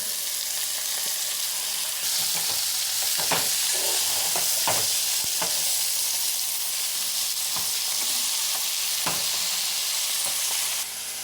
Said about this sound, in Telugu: తర్వాత కడిగి పెట్టుకున్న తోట పాలకూర వేసుకుంటున్నాను